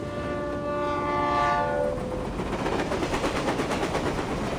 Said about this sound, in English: And why is the stupid train never on time?